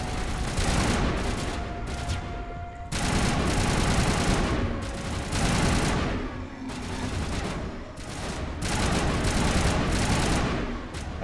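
Sustained automatic assault rifle fire from Mass Effect squad combat, loud dense bursts rattling almost continuously with a few brief gaps between volleys.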